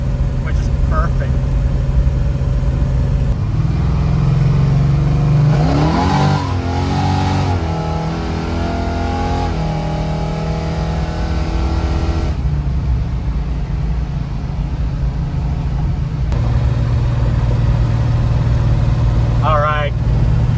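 Big Block Chevy car engine idling, then revving in short pulls through first and second gear, a steady low rumble with rising and falling revs, a person talking over it.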